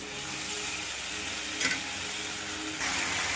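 Fried potatoes stirred in a pan for a prawn and ash gourd curry, a steady soft sizzle with faint scraping, continuous and close, with a brief louder stir near the middle and another toward the end.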